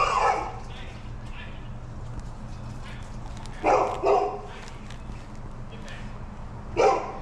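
A dog at a house during a food delivery drop-off barks in short bursts, two quick yaps in the middle and another near the end, close by, over a steady low vehicle rumble, with faint voices at the start.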